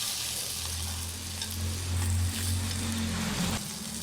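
Mustard poured into a hot frying pan sizzles and crackles steadily at close range for a few seconds, a continuous hiss with no talking over it.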